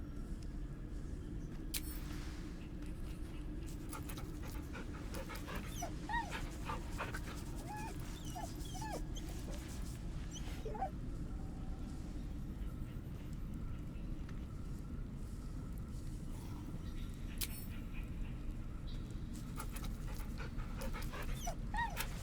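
A dog whimpers and pants in the video game Baldur's Gate 3, with soft, repeated whines and breaths scattered over a steady low background rumble for about twenty seconds.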